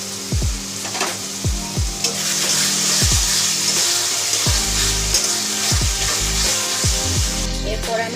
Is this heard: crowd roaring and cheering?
no